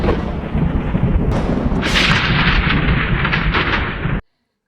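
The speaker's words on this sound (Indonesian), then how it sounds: "atau suara petir yang sangat keras." Loud, sustained rumbling thunder with a crackling roar that swells midway and then cuts off abruptly; no voices.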